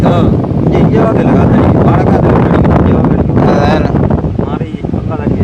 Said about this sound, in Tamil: வந்து காற்று தான் அடிச்சு கொண்டு